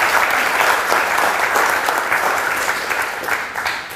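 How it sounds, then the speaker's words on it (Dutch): Dense, even applause from an audience at a marketing talk event, a continuous wash of many hands clapping for two speakers, steady and fairly loud throughout with only a slight fade at the end. "dan graag nog één keer een applaus voor Marjolein en Mohira"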